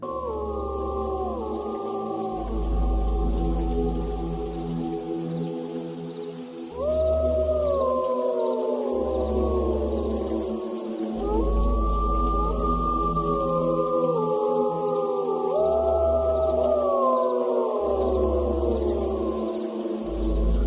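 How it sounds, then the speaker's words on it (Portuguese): Recording of a wolf howling, long sliding howls rising and falling in several overlapping waves, played back with a rhythmic low thumping underneath and no talking. "E eu separei um uivo de um lobo."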